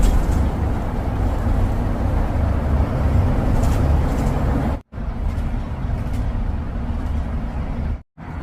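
Bus driving through the Blackwall Tunnel in London, a loud continuous engine and road rumble inside the enclosed tunnel, broken by two brief sharp dropouts near the end.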